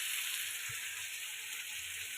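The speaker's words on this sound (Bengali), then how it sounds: "আমাদের আদা রসুন পেঁয়াজ সবই মোটামুটি ভাজা হয়ে গেছে" Ginger, garlic and onion frying in a pot for paneer khichuri, a steady, fairly faint hiss of sizzling oil that holds evenly throughout with no voices.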